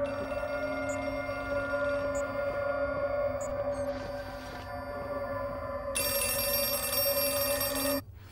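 A telephone rings in the horror video game Outlast 2, a loud, steady electronic trill with a constant tonal hum beneath, brightening into a harsher ring near the end before cutting off abruptly, with no talking.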